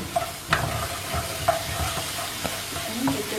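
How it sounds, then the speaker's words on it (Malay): Garlic and pounded ginger sautéing in a little hot oil, a continuous soft sizzle broken by several light clicks and scrapes of a stirring utensil, with no talking. "Kemudian kita tumiskan bawang putih dengan halia yang telah ditumbuk tadi."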